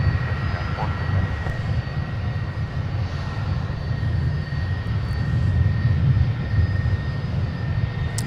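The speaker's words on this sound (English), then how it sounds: "And now arriving from Los Angeles, California with a 757 Delta 914" Delta Boeing 757 arriving at Minneapolis–Saint Paul airport from Los Angeles, a steady low engine roar holding through the whole stretch with a faint high whine on top, near and continuous.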